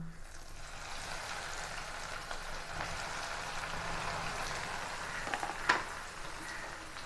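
Steady soft sizzling of bread pieces frying in hot oil, a continuous crackling hiss with a few small pops near the end.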